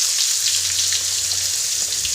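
Mustard seeds, fenugreek, cumin and dried chillies sizzle in oil, making a steady, close hiss with tiny crackles and no talking.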